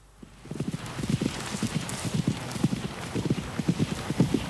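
A horse's hooves beat a quick, steady rhythm as it is ridden cross country, each footfall clear and close against a soft background hiss.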